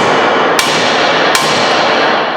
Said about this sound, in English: try to drop this stud from the upper ball joint out of the control arm before I drive this last rivet through